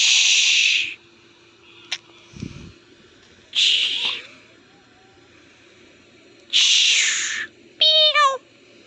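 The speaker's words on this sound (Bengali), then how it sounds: "অনেক বিড়াল আরো এদিকে আছে" Several cats meow at a dustbin at night in Saudi Arabia, loud, close calls coming in a few separate bursts with quiet gaps between them.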